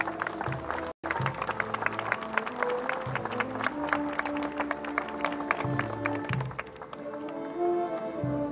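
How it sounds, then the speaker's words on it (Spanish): A crowd at an outdoor Easter Resurrection reenactment during Holy Week claps in sharp, scattered, uneven hand strikes. Music with a low repeating pattern plays underneath throughout. "Regalamos una vez más los aplausos."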